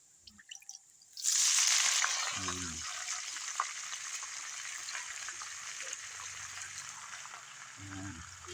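Sweet potato leaves (talbos) drop into a hot sautéing pan with a sudden loud sizzle that settles into a steady, fading hiss, while a voice speaks briefly twice.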